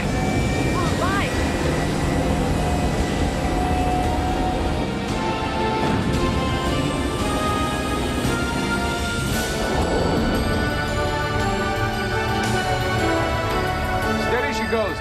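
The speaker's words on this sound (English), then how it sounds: "Activate side thrusters at full, Lestrella." Vehicle engines and side thrusters roar at liftoff in a 1993 film of Journey to the Center of the Earth, a dense, loud, continuous rumble and hiss with shifting tones throughout.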